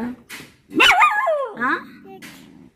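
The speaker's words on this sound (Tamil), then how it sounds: "வேட்டை நாய்க்குட்டி இங்கே கத்திக்கொண்டே நிற்க." A hunting-dog puppy yapping close by, a couple of short high yips followed by a longer whining bark that slides down into a low whimper.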